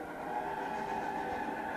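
A train on a model railroad approaching, a steady rumbling hum with faint rhythmic rail clatter, fairly close and even in level, no voices over it.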